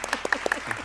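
A small studio audience at a televised quiz contest claps, giving a brief run of distinct, evenly spaced hand claps with a voice murmuring underneath.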